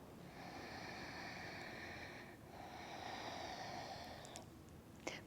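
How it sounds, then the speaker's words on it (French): Slow, deep breaths during seated chair yoga, each long airy inhale and exhale soft and close, with a brief pause between them and no talking. "prenez quelques respirations lentes et profondes."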